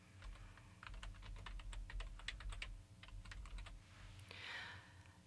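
A computer keyboard is typed on in a quick run of light, close clicking keystrokes, irregularly spaced with short pauses, faint and alone without talk.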